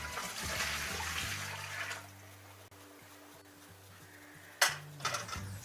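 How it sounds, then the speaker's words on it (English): Soaking water poured out of a dirty frying pan during cleaning, a broad rushing splash for about two seconds, then quiet with a faint hum, and a short clatter of the pan near the end. "I'm going to pour off the water"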